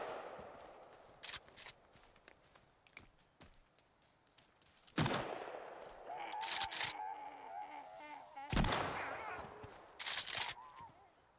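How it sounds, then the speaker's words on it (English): Shotgun slugs fired in Sons of the Forest boom out as several separate loud blasts with quiet gaps between, mixed with brief scuffs and a voice talking. "Yeah, I'm shooting slugs."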